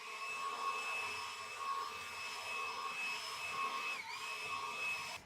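A battery-powered cordless leaf blower runs steadily in a home yard, giving a continuous whining, airy roar with a high motor tone that dips briefly near the end, with no talking.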